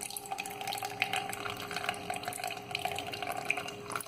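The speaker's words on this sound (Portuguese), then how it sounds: "Agora eu vou tirar esta água que está excedente, passar para uma outra vasilha" Soaking water poured off softened tamarind into another bowl, a steady close trickle and splash of liquid running without pause, with a faint hum behind it.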